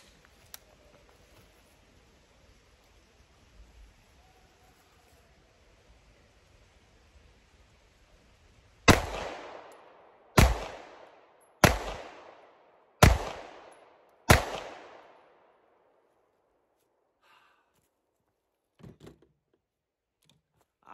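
Five sharp pistol shots from a Wilson Combat EDC X9 fired at a target 10 yards away, spaced about a second and a half apart, loud and close, with quiet before and after.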